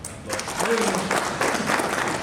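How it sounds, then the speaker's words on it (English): Audience applause after an institute lecture by Prof Anil Sahasrabudhe, a broad steady patter of clapping that swells after a quiet start and continues evenly at moderate loudness. "One round of applause."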